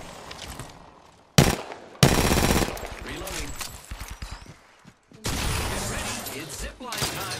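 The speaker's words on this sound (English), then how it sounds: "I am taking fire, friends." Bursts of rapid automatic gunfire and shots in a first-person shooter game, loud and close, coming in separate volleys with short gaps, with occasional voices between.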